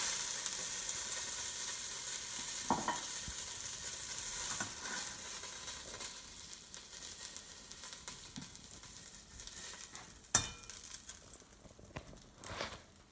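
Venison shanks fry in very hot oil, browning in a pan with a steady, hissing sizzle and crackle that goes on throughout, a few louder pops and clatters near the end, and no talking.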